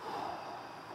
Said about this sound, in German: Kurze Pause, tief durchatmen.